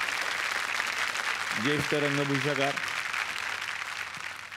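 An audience applauds a senior make-up artist, Mohan Pathare, with steady, dense clapping throughout while a voice speaks over it and a brief sung or musical phrase rises in the middle.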